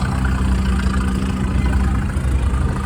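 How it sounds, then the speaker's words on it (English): An antique International TD9 diesel dozer engine runs at a steady idle, giving a continuous, fairly loud low rumble with no break for the whole few seconds. "It's a TD9 diesel, International diesel."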